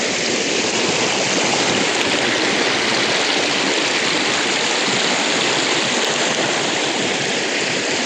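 A village river runs through forest, and its rushing water makes a steady, broadband roar. The flow is close and constant, with no voices over it.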